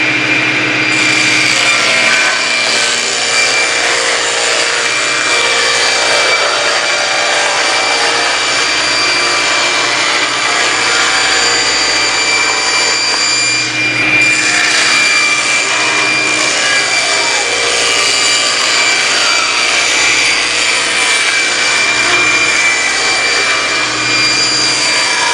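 Table saw ripping a wood panel against the rip fence in a workshop, a loud continuous whining cut that dips briefly midway before a second pass, no voices.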